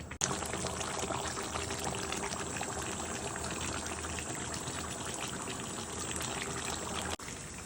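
Water pours steadily into a cooking pot for a Bengali beef kala bhuna, a constant soft rushing flow lasting several seconds that cuts off briefly near the end.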